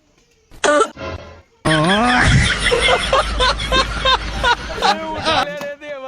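A person coughs in several harsh, rough bursts, close and loud, with laughter and excited chatter from others mixed in around the fits.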